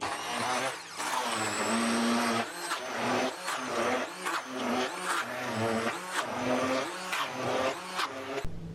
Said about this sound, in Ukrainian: Тепер за допомогою блендеру все це перемішуємо